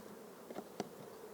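Honey bees hum faintly around an opened beehive during an inspection of brood comb, a soft continuous drone with a couple of brief closer buzzes as individual bees pass.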